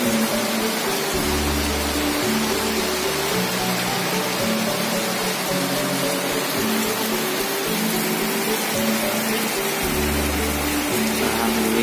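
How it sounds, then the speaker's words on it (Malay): Heavy outdoor rainfall pours without pause, a loud, uniform wash of noise that fills the whole stretch, unbroken by talk. "Di luar hujan"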